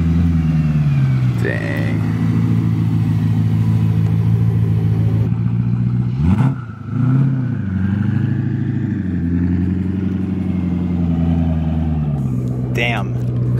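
The engine of a Gintani twin turbo BMW E92 M3 rated at 850hp rumbles and revs, with a deep droning note that swells and surges midway. Voices talk over it.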